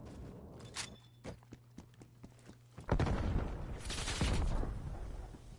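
Explosions and gunfire: scattered sharp cracks and thuds at first, then a loud sustained burst of heavy blasts and rumbling fire, dense and close.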